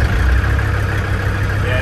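A diesel engine of a 1957 Series 1 Land Rover idles steadily nearby at about 1,000 rpm, a low, even rumble that holds the same pitch throughout without revving.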